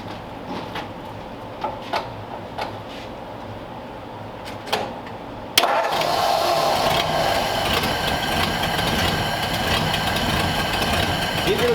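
A custom 1946 Ford convertible engine with a new condenser and coil catches at about the midpoint after quiet clicks and shuffling. It then runs at a steady, loud idle, close by, with no talk.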